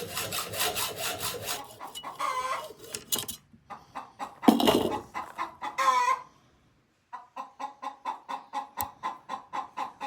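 A chicken clucks and squawks nearby in an outdoor setting, loud bursts with pauses, ending in a steady series of short repeated clucks, with a few rasping saw strokes mixed in early and no speech.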